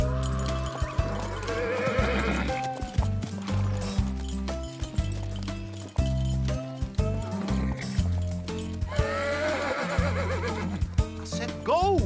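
A horse whinnies loudly several times over a busy, layered background of thuds and shuffling, the calls rising and falling in pitch.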